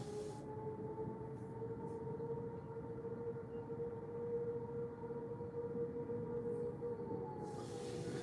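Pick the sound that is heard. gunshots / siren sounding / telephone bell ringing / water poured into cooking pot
siren sounding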